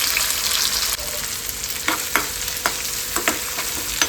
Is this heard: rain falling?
no